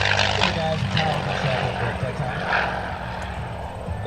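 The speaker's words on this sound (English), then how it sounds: "They're back to doing the helicopter ride" A helicopter giving rides at a Northeastern Pennsylvania airshow drones steadily with rotor thump in the middle distance, underneath a public-address announcer's ongoing talk.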